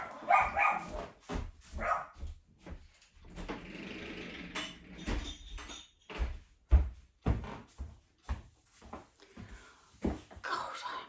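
Dogs at home on a housing estate bark in a series of short, sharp bursts, fairly close and loud, with gaps between them and some household knocking and movement mixed in.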